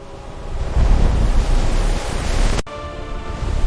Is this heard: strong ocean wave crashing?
yes